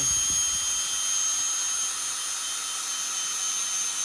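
A power drill strains under torque as it winds a big blue motorcycle lift carrying a Goldwing up to the top, a continuous close whirring hum with a faint thump near the start.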